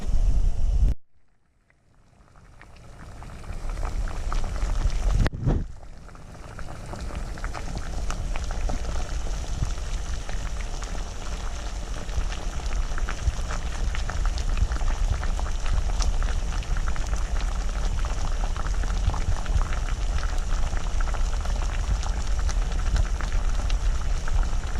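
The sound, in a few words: water boiling to heat a Russian hiking ration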